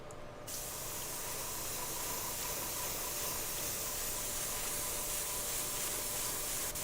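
Aerosol topcoat sprays onto a shoe in one steady, continuous hiss lasting several seconds, close and fairly loud, with no talking.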